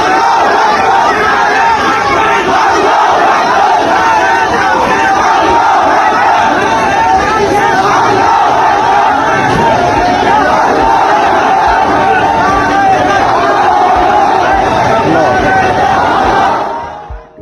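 An angry mob during a lynching in Bangladesh roars continuously, a dense mass of many shouting voices at high, sustained loudness for the whole stretch, close and chaotic.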